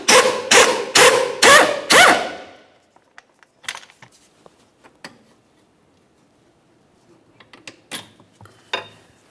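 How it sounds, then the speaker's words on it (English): A wrench turning a 17mm engine mount through bolt on a Pontiac Vibe, about five loud rhythmic ratcheting strokes up close, followed by fainter scattered clicks and metallic taps. "we can start removing that mounting bolt by turning it counterclockwise"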